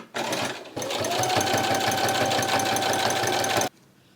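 Denim dress fabric feeds through a sewing machine, the needle hammering in a fast, steady, loud run after a brief start and pause, then stopping abruptly, with no talk over it.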